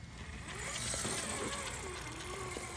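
Steady whirring gear racket from the drivetrain of an Axial SCX10.3 RC crawler on heavy setup with KM3 tires, a continuous close mechanical whine with faint rattling throughout.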